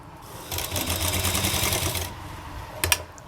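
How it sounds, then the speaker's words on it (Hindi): A sewing machine stitches fabric for wrap palazzo trousers in a steady fast whirring run of about a second and a half, then stops, followed by a couple of small clicks. "यहाँ हम इसके ऊपर सिलाई लगाएंगे"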